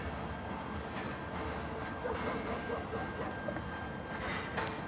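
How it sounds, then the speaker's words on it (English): A long train hauled by locomotives NS 4054, UP 6051 and CSX 3144 rumbles steadily past, a continuous broad roar with faint rhythmic clatter and occasional squeals, fairly distant and unbroken throughout. "That was a long train."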